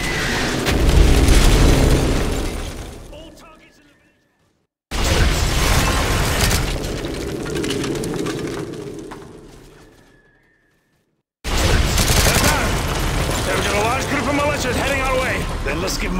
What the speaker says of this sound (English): Start putting shells downrange. Use the mortar and hose those bastards down.